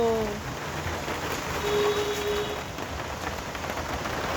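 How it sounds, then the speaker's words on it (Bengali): Steady, dense rain from a rainstorm in Kolkata hisses continuously close by, with faint background tones and no clear speech. "কি ঝড়টা হলো।"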